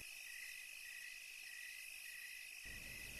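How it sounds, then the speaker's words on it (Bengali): Crickets chirp outside at night in a continuous high, even trill that holds steady throughout, with no voices and only a faint low rumble underneath. "বাইরে ঝিঝি পোকাদের ডাক ছাড়া আর কিছুই কানে আসছে না।"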